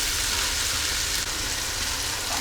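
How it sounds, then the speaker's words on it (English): Mushrooms and onions fry gently in a pan over low to medium heat, giving a steady, close, even sizzle that runs unbroken with no voices. "gently frying these mushrooms with the onions"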